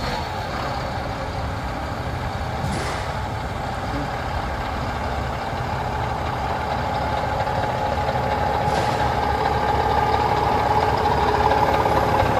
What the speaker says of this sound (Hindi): अभी मैंने स्टार्ट किया है, आप इसके इंजन की साउंड को सुनिए एक बार।